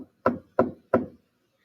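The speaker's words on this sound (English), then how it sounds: "suddenly there came a tapping, as of someone gently rapping at my chamber door" Three evenly spaced knocks on a wooden chamber door, crisp and fairly close, each with a short hollow decay, followed by quiet.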